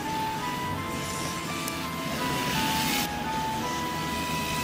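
A Re-R Hybrid RC drift car motor whines steadily at high pitch as the throttle is worked through a drift, a continuous buzzing electric drone with slight rises in intensity.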